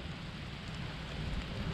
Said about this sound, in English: all right, it's starting to rain.